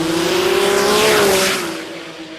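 Sports compact drag car at an Australian drag racing meet tearing down the strip at full throttle, a loud, steady high-pitched engine roar that holds its pitch and then begins fading as the car moves away.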